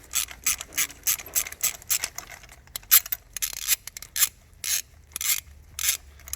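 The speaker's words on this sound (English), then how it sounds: "we're going to go ahead and break it loose and just go ahead and drive it all the way out" A ratchet wrench breaks loose and drives out a spark plug on a 2016 Kia Soul, giving close, crisp bursts of clicking in an uneven back-and-forth rhythm with short pauses between strokes.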